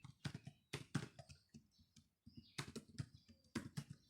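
Rapid bursts of keystrokes on a computer keyboard while entering a bash command, clicking in irregular clusters with brief pauses between words, close and clear with no talking.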